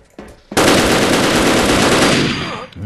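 Sustained burst of automatic gunfire from the online shooter WolfTeam, loud and dense for over two seconds after a brief quiet start, then trailing off.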